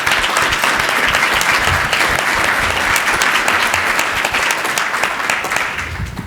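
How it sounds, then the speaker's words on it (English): A public-policy event audience gives sustained, full applause, many people clapping in a thick, even roar that stays loud throughout and eases slightly at the very end. "let's also give them a nice round of appreciative applause"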